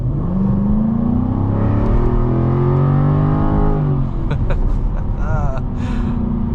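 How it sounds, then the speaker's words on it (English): A supercharged V8 in a 2023 Jaguar F-Type revs up with rising pitch as it accelerates hard, loud and close, then settles into a rough roar with some whirring. "mash the throttle and see how fast we can get up to speed"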